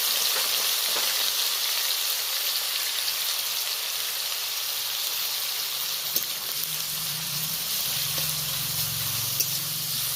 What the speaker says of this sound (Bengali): এই পর্যায়ে আমি গ্রেট করা পেঁয়াজটা দিয়ে দিলাম।